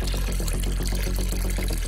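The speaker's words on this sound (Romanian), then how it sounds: "O să torn apă în oala asta." Water pours steadily into a pot in a short, continuous, close gurgling stream with no voices.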